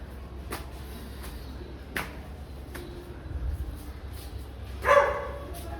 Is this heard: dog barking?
yes